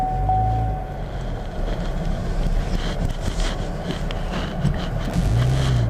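A 2017 Chevrolet Camaro 1LE under way, a steady rumbling engine and road drone from inside the cabin with wind noise, fairly loud and continuous, with a brief rise in engine pitch near the end.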